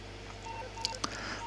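Short phone dialing tones from a mobile phone in GTA, a few faint beeps followed by a couple of sharper tones over a low steady hum.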